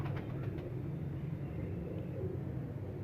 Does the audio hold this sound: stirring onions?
no